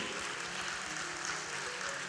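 Dense, steady applause from an audience welcoming Dr. Prabhu Ahuja at a Mohammed Rafi fan club event in Ulhasnagar, a continuous wash of clapping held at an even level throughout.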